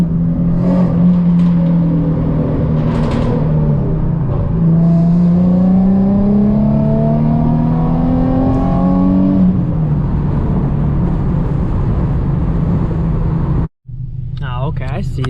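A Nissan Nismo Z sports car engine runs loud and close, a deep droning exhaust note that rises steadily in pitch as it revs up, then drops and cuts off abruptly before resuming.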